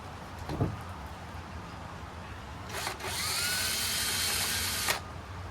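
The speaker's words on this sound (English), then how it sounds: "I'm drilling this out." After a few quiet knocks, an electric drill whirs loudly for about two seconds at a steady high pitch, then stops, with a metal stake fitted in the chuck.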